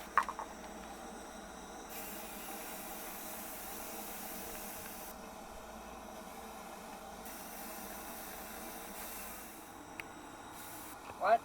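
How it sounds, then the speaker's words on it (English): Spray paint hissing from a can onto 330 conibear traps, long steady bursts of hiss with short breaks between passes, close and even in level. "the boys are gonna go ahead and spray paint our 330 conibear traps."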